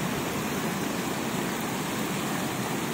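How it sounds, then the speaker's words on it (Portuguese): Gentle flow of the Rio Salgado in Ceará, running low and carrying little water, a steady broadband rush of moving water that holds even and unbroken throughout, with no voices over it. "graças a Deus ainda está escorrendo água"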